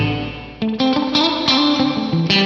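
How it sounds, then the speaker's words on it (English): A large spring reverb on an FM9 guitar effects unit drenches clean guitar notes in a wet, drippy splash, each plucked note blooming and ringing out with a metallic tail. "let's hear reverb on reverb. We'll start with the large spring."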